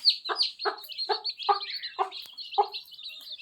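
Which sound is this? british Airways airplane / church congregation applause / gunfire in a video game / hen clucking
hen clucking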